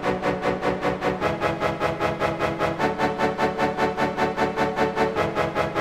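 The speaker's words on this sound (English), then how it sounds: "It is the Brass Staccato 2 preset. And that's gonna sound like this." Nexus Brass Staccato 2 synth preset from the Dance Orchestra expansion, short punchy brass stabs in a fast even rhythm over several chord changes, heard alone and fairly loud.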